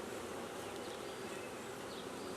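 Honey bees buzz steadily at an open hive during an inspection, a dense continuous drone of many wings fanning and flying close by, with no talk.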